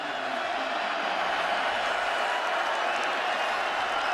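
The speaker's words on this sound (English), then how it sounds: "here comes the crowd" A college football stadium crowd in Norman, Oklahoma, during an Iowa State at Oklahoma game fills the air with a continuous wash of cheering and applause, steady and sustained throughout, with no clear voices on top.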